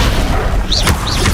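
Confringo fire spell exploding in Hogwarts Legacy, a short booming blast with a bright whooshing burst, a single hit over continuous background game audio.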